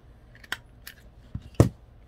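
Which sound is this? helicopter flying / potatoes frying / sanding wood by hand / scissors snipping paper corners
scissors snipping paper corners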